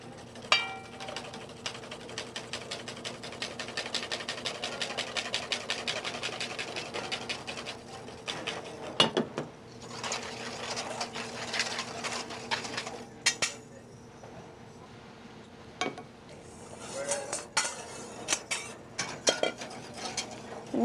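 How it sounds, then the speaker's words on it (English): A whisk beats vanilla custard in a pot on the stove, making a fast, steady run of close metallic ticks and scrapes that pauses and resumes in short bursts, with no voices. "we're whisking constantly so we have a nice smooth paste"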